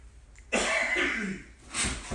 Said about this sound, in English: under this light, I had a cough